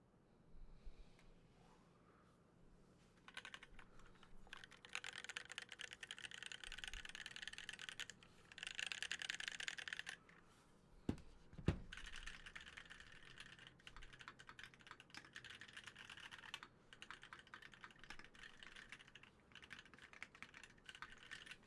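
Rebuilt mechanical keyboard with a brass build being typed on, a steady run of close, crisp key clacks in bursts with brief pauses and a few louder thocks, no talking.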